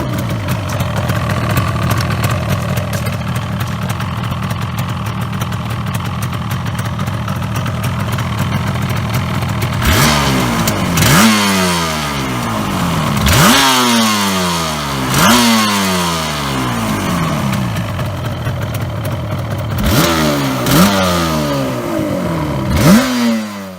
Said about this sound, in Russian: предлагаю вам сравнить звук выхлопа Ява с, так сказать, японским конкурентом в этом классе Yamaha RD350